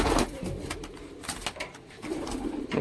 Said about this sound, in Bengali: দেখুন পায়রাগুলো